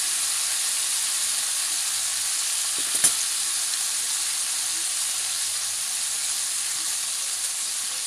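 Thick bacon sizzling in a frying pan, a steady close hiss and crackle with one sharp tap about three seconds in and no talking.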